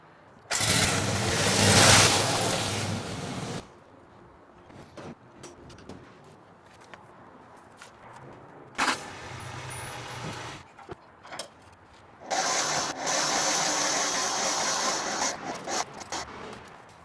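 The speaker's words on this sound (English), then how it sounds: "we're gonna pull that mower in to the trailer" A riding lawn mower engine revs loud and close as it drives up onto a trailer, with bursts of rough engine noise broken by quieter pauses and a final sustained run.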